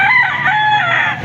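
A rooster crows loudly and close by, one sustained, strained call filling the whole moment with no talk over it.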